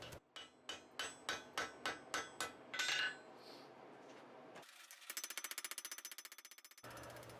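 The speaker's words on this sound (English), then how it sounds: "I'm just trying to fuller the thick edge of the candle cup so that it draws down into a more graceful taper" A blacksmith fullering the thick edge of an iron candle cup, about ten evenly spaced hammer strikes ringing on hot metal, then a pause before a rapid buzzing, mechanical burst of blows.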